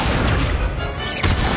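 An Accio spell cast in Hogwarts Legacy brings a thick, rumbling wash of magical noise that dips briefly, then swells again with one sudden crashing burst near the end; no one talks.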